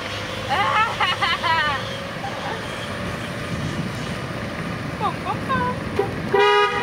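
A car horn gives a short loud honk near the end, over a steady engine hum, with people talking earlier.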